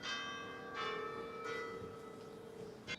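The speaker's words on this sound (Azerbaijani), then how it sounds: "Yaxınlıqda kilsə və zəngi, onun zəngi düz məscidin içərisinə qədər eşidilir." A church bell in Tirana, close to a large mosque in the city centre, rings with a sustained resonant hum and repeated strikes that carry steadily through the whole stretch.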